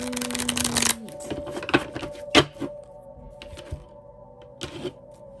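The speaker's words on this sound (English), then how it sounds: "You have to be very strategic when you're shuffling these cards." Tarot cards are shuffled close by in quick riffling bursts and soft flicks, with scattered taps, fairly quiet overall.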